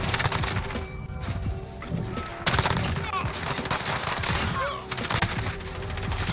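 Sustained gunfire from the game Modern Warfare with an MP7 setup: dense, rapid shots crackle almost continuously, with brief lulls and a few louder bursts standing out.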